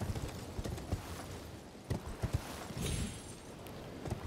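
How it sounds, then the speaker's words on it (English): Horse hooves clip-clop in a video game, a steady run of hoofbeats of even loudness with a few stronger footfalls and a brief burst of noise near the middle. "Come on, you stupid horse."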